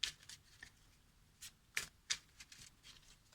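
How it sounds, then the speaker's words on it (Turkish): Tarot cards are shuffled and picked in a quiet room, giving several sharp, crisp riffling snaps separated by short near-silent gaps, close and fairly faint. "Bir tane daha kart seçmek istiyorum."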